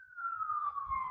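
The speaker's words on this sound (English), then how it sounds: "Sorry about the sirens." A police siren wails steadily at a moderate distance, its pitch slowly sliding down as it passes, with a low rumble underneath.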